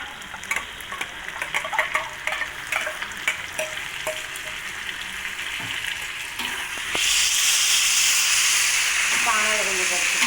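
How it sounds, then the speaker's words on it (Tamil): Chillies frying with softened onions for nasi lemak sambal crackle in a pan with scattered stirring clicks, then the sizzle jumps to a loud, dense hiss as the chillies hit the oil. "இப்போ நம்ம மிளகாவை போட வேண்டியதான்"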